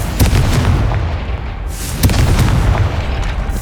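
A Confringo blast spell explosion in Hogwarts Legacy sounds as a loud, rumbling burst with two heavy booming impacts over a dense, continuous roar of game effects.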